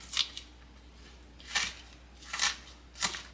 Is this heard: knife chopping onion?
yes